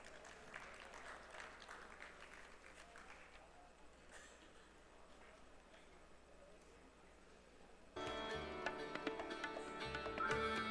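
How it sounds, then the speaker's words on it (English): An audience at an orthodontic conference inauguration function claps for an honoree. Scattered, faint applause is followed by louder, fuller clapping mixed with music near the end. "A big round of applause for sir"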